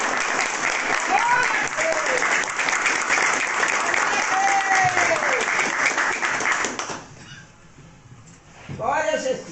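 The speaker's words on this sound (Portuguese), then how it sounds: "Uma salva de palmas para Jesus." Vigorous congregational applause at a church service, a dense stretch of clapping mixed with voices and cries of praise that stops abruptly, leaving quieter voices and a brief renewed outburst.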